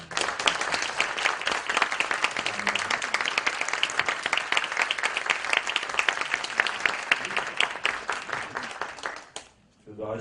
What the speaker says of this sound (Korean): 우리 뜨거운 박수 합니다